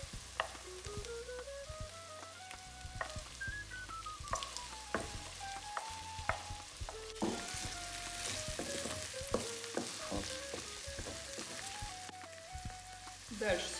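Green peppers going into a pan with onion that has been fried for about a minute, then frying in a steady close sizzle with stirring clatter, one of the ingredients for a meat-free stuffed cabbage pie.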